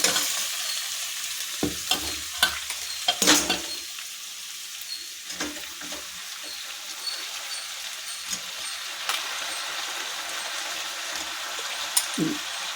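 Brinjal pieces and onions frying in oil while being stirred, a steady sizzle running throughout with a few sharper clatters of the spoon against the pan early on, heard close with no talk.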